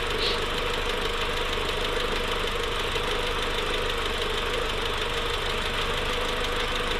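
Toyota Supra MK4 engine running steadily after a head gasket repair, a close, continuous mechanical drone with a knocking undertone and no break in level.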